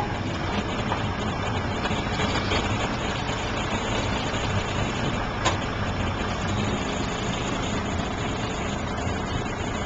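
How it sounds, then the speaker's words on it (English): A boat engine idles in Pompano Beach, Florida, shifting in and out of gear, with a steady, dense rumble that holds constant throughout, with a faint clank partway through. "we're gonna idle the boat to show that it shifts on and off"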